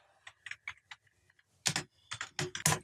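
Keys clatter on a computer keyboard as numeric input is typed into a Python program, first in light scattered taps, then in a louder cluster of quick strokes, close and with no voices.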